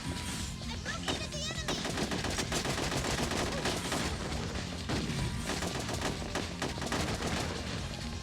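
Rapid, dense gunfire from the video game Ghost in the Shell: Stand Alone Complex, with sustained bursts of shots and booms running loud and continuous throughout.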